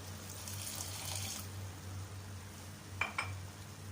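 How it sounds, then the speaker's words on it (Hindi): Half a cup of water pours into a cooking pan, a brief splashing rush followed by a couple of clinks of utensil on metal, close and over a steady low kitchen hum. "हाफ मिनट के बाद इसमें हम आधा कप पानी शामिल करेंगे"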